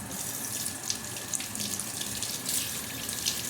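Tap water runs steadily into a sink while hands are washed, a continuous close splashing rush with small irregular spatters and no voices.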